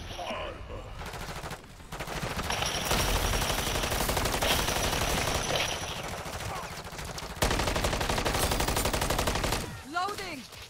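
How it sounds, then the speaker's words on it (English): Rapid automatic gunfire rattles in bursts during a Modern Warfare Zombies extraction mission, dense and loud with brief lulls, while a player's voice briefly cuts in near the end. "There's some gunfire down there."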